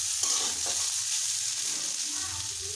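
Raisins and cashews sizzle steadily in a pan with soft stirring, a quiet continuous frying hiss heard up close with no talking.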